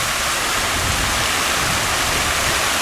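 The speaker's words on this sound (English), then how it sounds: "I got a fountain here as well, this side." Water from a fountain in Hiroshima's Peace Memorial Park splashes and rushes in a loud, steady hiss that fills the space without pause, heard up close.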